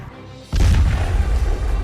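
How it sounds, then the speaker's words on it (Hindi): An artillery shell explosion: a heavy, deep boom bursts in suddenly after a quiet moment, followed by a rumbling roar that lingers. "गोले चल चुके हैं,"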